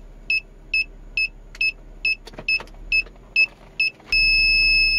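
Ezetek car parking sensor sounding as the car nears a garage door, a series of about nine short, evenly spaced electronic beeps, then a continuous solid tone as the distance closes, clear and close.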